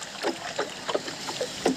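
A rowboat paddled on Begnas Lake, with soft, rhythmic splashes and dips of the oars in water repeating every half second or so, close by and fairly quiet.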